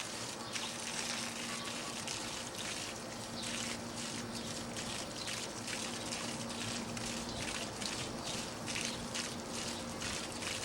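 Steady water runs and splashes as an oiled bird's feathers are rinsed clean, a continuous close gurgling wash that holds an even level throughout with no talking.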